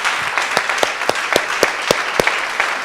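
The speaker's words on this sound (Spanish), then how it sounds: "aplaude como debe ser" A church congregation claps during a Spanish-language gospel sermon, a loose, fairly close applause in which individual hand claps ring out sharply and unevenly over a softer bed of clapping.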